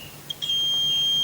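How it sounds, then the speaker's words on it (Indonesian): A multimeter's continuity buzzer beeps while the probes touch a shorted capacitor on a Polytron TV power board, sounding a couple of brief chirps and then a steady, piercing high tone that holds. "di elko P+ menuju ground feedback ini bunyi tit ya, ini berarti menunjukkan ada yang konslet ya."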